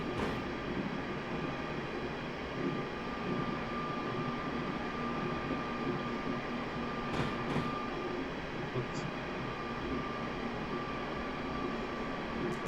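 A Class 350 electric multiple unit runs on the Birmingham New Street to Euston route in Train Simulator 2017, giving a steady, moderately quiet rolling hum and rail rumble inside the cab, with faint talk in places.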